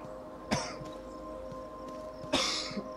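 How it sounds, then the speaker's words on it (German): Two short, sharp coughs from one person, the second a little stronger, heard close over a faint steady background hum with some quiet clicks. "Es tut mir leid mit dem Husten"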